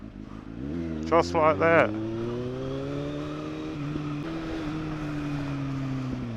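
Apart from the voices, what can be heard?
motorcycle riding in a bus lane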